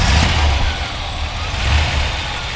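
A 1963 Ford F100 pickup's engine rumbles at close range in a steady, low idle with slight uneven pulsing.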